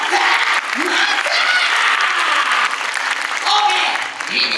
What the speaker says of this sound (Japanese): それぐらいの割れバカで拍手頼んだぜ